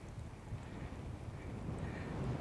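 Steady wind gusting across a mountainside just below Sharp Edge on Blencathra in the Lake District, a broad low rush buffeting the microphone and building slightly over a few seconds, with no voices.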